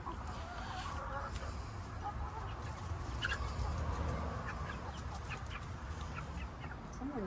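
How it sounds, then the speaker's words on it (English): Backyard chickens clucking and murmuring around a portable perch, a continuous soft chorus of close and farther birds, with a person talking over them. "Apparently the birds think Roni makes a better perch."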